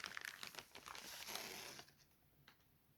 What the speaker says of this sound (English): let's remove the plastic bag